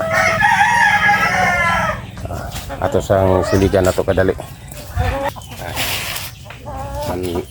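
Farmyard chickens cluck and a rooster crows at close range at feeding time, the calls repeating in bursts while someone talks over them.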